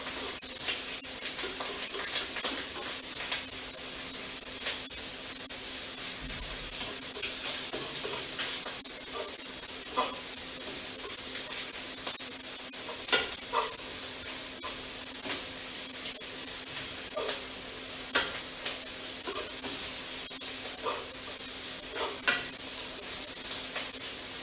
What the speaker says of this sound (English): Okay, it's starting to pop a little right now.